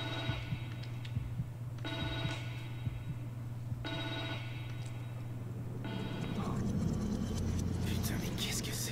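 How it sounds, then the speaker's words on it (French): A telephone rings in a psychiatric hospital in the video game The Evil Within 2, with three evenly spaced electronic rings of about a second each over a constant low hum and ambient game noise. "Ah, le téléphone sonne."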